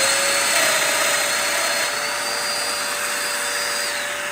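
Festool Domino joiner plunging a slot into wood with a dust extractor attached, a loud, steady whining motor and suction roar with a faint tonal hum, sustained without talk and easing slightly toward the end.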